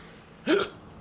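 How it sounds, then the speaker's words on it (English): A single sharp hiccup from a man, short and fairly close, standing alone against a quiet background. "Hiccups."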